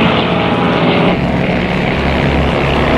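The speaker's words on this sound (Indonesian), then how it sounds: "Pesawat tempur mereka beriringan" Military aircraft flying in formation in a war film about a US pilot shot down over Laos, heard as a loud, steady engine roar with a low droning hum that carries on throughout without a break.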